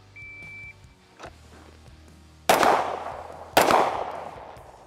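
Two sharp, loud Springfield Armory Echelon pistol shots about a second apart during a 50-foot pistol qualification, each with a ringing decay, after a quiet stretch of faint handling noise.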